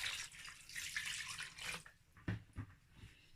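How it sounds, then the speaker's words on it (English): Water is poured into a pot of beef being cooked for pepper soup, a rushing splashy pour that tapers off, followed by a few soft clunks and knocks. "Okay, so I'm going to add water"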